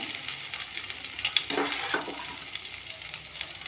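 Spices frying in hot oil with ginger and a pinch of turmeric, a steady close sizzle with a brief louder burst of hissing as something goes in, no talk.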